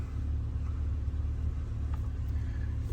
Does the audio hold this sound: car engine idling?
yes